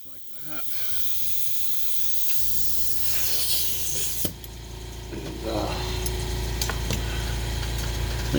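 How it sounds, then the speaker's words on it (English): Compressed air blasting lacquer thinner out of a part, a close, continuous rushing hiss that swells and gets louder toward the end, with a voice faintly present. "Blow out that lacquer thinner that's in there."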